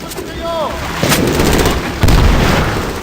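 Automatic gunfire and booming shots ring out in the Medal of Honor Warfighter campaign, a dense, loud wash of bursts with heavier impacts around the one- and two-second marks and no clear speech.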